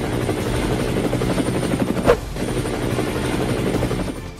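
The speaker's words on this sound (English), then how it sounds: "Can you give me a ride in this helicopter?" Helicopter rotor thumping steadily and loud up close, a continuous throbbing drone with a brief sharp bump midway.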